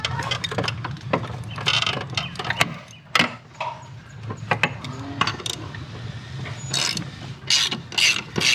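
A ratchet wrench loosens the blade bolt under a tipped Toro 22-inch Recycler lawn mower. Clicking strokes sound up close in uneven bursts, mixed with metallic handling noises.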